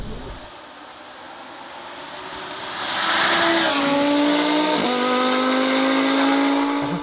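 Audi R8 GT MTM sports car with 822 CV and a seven-speed S-Tronic gearbox accelerating hard, the engine note climbing loudly through rising revs with a quick upshift partway, close and dominant.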